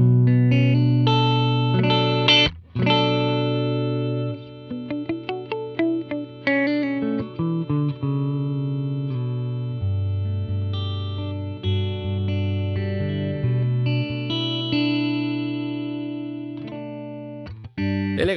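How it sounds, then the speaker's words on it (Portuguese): Electric guitar played through a Line 6 HX Stomp on a Fender Deluxe Reverb amp model, with freeze holding sustained chords while clean melodic notes ring over them, lush and reverberant, punctuated by brief pauses. "eu fui para um outro, que é um Deluxe Reverb, que tem, eu tô usando para brincar um pouco com a função de freeze da HX"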